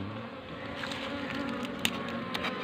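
Dense, continuous buzzing of many honeybees close by at their hive, a steady hum with individual bees flying past.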